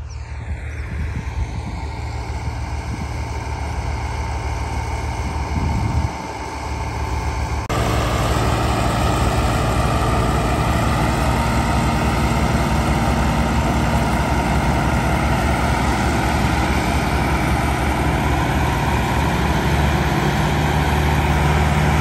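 A Massey Ferguson MF385 4x4 tractor pulling a sugarcane load along a rough dirt track rumbles with a heavy, steady diesel drone that grows louder and fuller after several seconds, with no talk.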